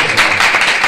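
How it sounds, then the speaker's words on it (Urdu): A congregation at a church sermon gives loud applause, a brief dense burst of clapping heard close and strong throughout. "میں چاہتا ہوں اس شفقت کے لیے خدا کی اس مہربانی کے لیے زوردار تالیاں بجائیں۔"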